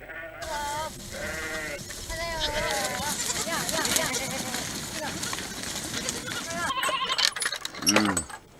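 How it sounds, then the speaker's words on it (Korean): Goats head back to their pen at sunset on a North Korean farm, bleating repeatedly at close range over a busy mix of animal calls and background noise, with a voice speaking throughout. "저녁 해가 지자 염소들이 자기 우리로 돌아갑니다."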